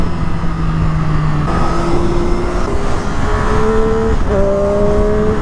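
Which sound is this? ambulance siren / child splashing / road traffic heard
road traffic heard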